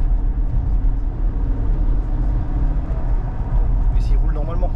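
A Porsche Turbo S, just fitted with a new turbo, driven gently to warm up, its engine a steady low rumble and road noise throughout with a faint voice near the end.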